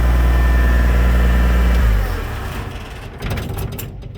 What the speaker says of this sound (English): This tractor diesels too. When it was winding down, you heard it kind of crank up a little bit.